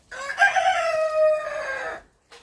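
A single loud crow from a bearded rooster, a cross of domestic chicken and Cochin, drawn out for nearly two seconds, close by, with a brief faint cluck right after it.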